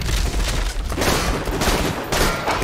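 Video game gunfire in Tiny Tina's Assault on Dragon Keep, a dense, continuous clatter of overlapping shots with brief dips, loud and filling the whole stretch.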